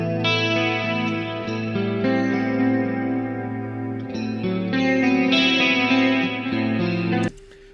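Electric guitar through a Boss Dimension C chorus with a little quarter-note digital delay from a timeline pedal, playing clean sustained chords with a shimmering wash and echoing repeats. It rings loud and steady for about seven seconds, then stops abruptly.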